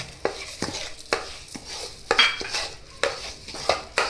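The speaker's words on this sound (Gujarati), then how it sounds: "ખાંડ થોડીક ઓગળી જાય ને ત્યાં સુધી આને હલાવવાનું." A utensil stirs sugar into roasted wheat flour in a pan, scraping and clinking against the metal in regular strokes about twice a second, close and clear, with no talking.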